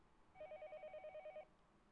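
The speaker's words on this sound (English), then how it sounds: "A phone is ringing again." A phone rings in the horror video game Yomawari: Night Alone, a rapid pulsing electronic trill of about a dozen beats repeating evenly for one second before stopping, fairly faint over a low background hiss.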